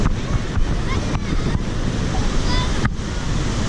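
Gokak waterfall roaring as a dense, steady rush of falling water, loud and close, with wind buffeting the microphone throughout.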